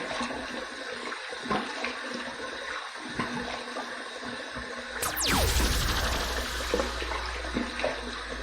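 Hot water splashes and pours at a bathroom sink as a man wets his face before shaving, light sloshing at first, then a louder rushing gush of running water in the second half.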